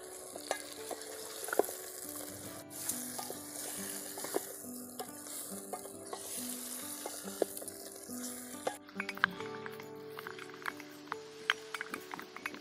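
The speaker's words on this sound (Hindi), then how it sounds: "अब इसको चलाते हुए अच्छे से कुछ देर तक फ्राई करेंगे।" Mutton sizzles steadily in a hot pan while a utensil scrapes and stirs repeatedly, with occasional clinks against the metal.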